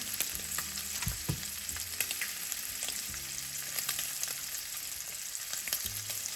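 Smoked sausage and minced onion fry in a pan, giving a soft, continuous sizzle. Occasional stirring scrapes and some low rumbling and clatter sound close by, with no one speaking.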